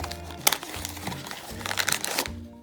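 Plastic bag holding a Spyro mystery mini figure from Kidrobot crinkles in bursts at close range, with sharp rustles against a steady low background hum.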